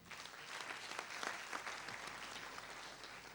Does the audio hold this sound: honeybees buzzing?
no